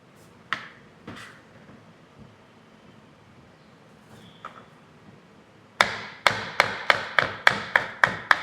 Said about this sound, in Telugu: ఈ విధంగా కట్ చేసుకోవాలండి.